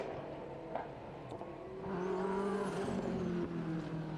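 Race car engine screaming past at the Historic Leyburn Sprints in Australia, a distant high-pitched whine that swells and sweeps in pitch as the car passes, over faint background noise.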